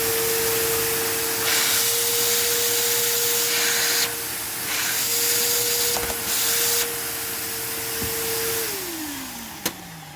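Worn-sounding vacuum cleaner motor running loud and steady close by, with a droning whine throughout and shifts in airflow, the pitch sagging near the end as it starts to wind down.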